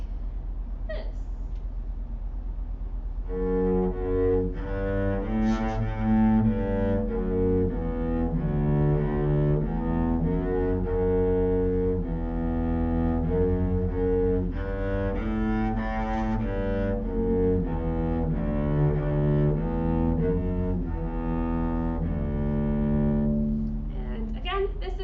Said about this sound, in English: And the bass sounds like this.